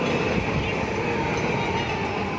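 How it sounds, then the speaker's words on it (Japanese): Yamanote Line train pulling in at a Tokyo station, a steady, loud rumble and rushing hiss of rolling stock filling the whole stretch without a break. "また山手線がやってきましたね"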